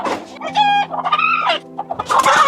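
Chickens cluck loudly and close in a coop, with a rooster's strained crow breaking in among about seven hens' busy, overlapping calls.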